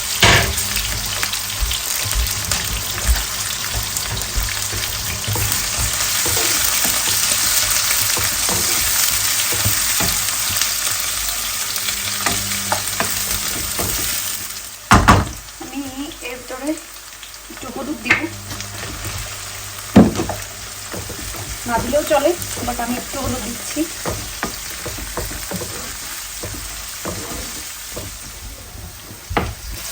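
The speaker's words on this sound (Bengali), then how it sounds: "জিরা ভাজা হয়ে গেছে, এখন এটার ভিতরে আমি এখানে প্রথমে পেঁয়াজ আর আলু দিয়ে দিই" Onion, potato, garlic and green chilli fry together in a pan with cumin seeds, giving a loud, steady sizzle that later settles down. Scraping stirs and clinks break through it, and a voice speaks briefly.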